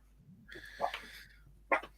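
Dog during training, a short whine followed by two sharp yips or barks, close and fairly quiet, with no speech.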